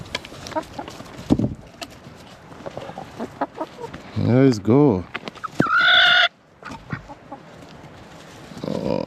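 Backyard chickens clucking close by, several loud bursts and rhythmic squawks among rustling and scattered noises, with a person briefly speaking.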